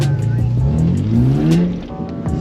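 Car drifting in figure-eight loops, its engine droning and rising and falling in pitch continuously and close by, with a brief tire squeal and people talking over it.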